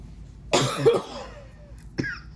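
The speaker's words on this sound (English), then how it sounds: "I have asthma, so I cough and I cough and I cough." Two short, harsh asthmatic coughs sound close by, the first a rough burst and the second a quick follow-up after a pause.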